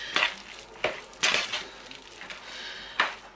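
Ingredients for soup dumplings get mixed in a pot, with a few distinct scraping and clinking strokes of a utensil spaced over a soft background hiss.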